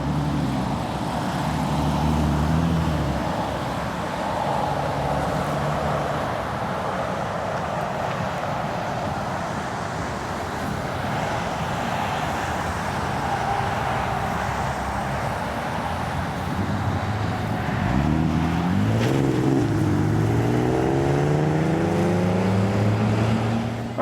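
A 2008 Audi TT 3.2L Quattro with a Magnaflow exhaust drones steadily while driving, its exhaust note rising in a clear sweep as it accelerates near the end, loud and continuous with no talk.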